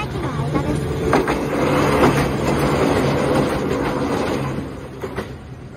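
Nagareyama Line train passing over railway points, heard close and loud as a continuous rumble with rhythmic wheel clacks and brief metallic knocks over the junction.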